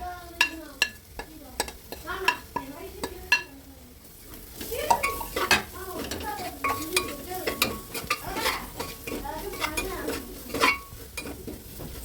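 Spice powders being stirred into tomato rice in a pan: a busy close clatter of a metal spoon scraping and knocking against the pot over a light sizzle, irregular and continuous, with no talking.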